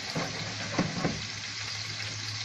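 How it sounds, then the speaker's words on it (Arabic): Sliced onions fry in hot oil for Egyptian koshari with a dense, continuous crackling sizzle. A few soft stirring scrapes sound close by. "هنا بقى هقلب التقليه باستمرار علشان ما تتحرقش معايا، وتطلع معاكي اللون الذهبي الجميل المقرمش"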